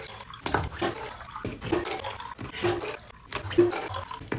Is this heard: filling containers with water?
yes